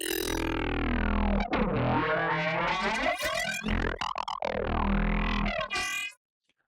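A metallic comb synth preset built in Snapheap rings out with sweeping, pitch-bending resonant tones and stuttering, gated chops, bright and effect-laden, before cutting off abruptly into silence.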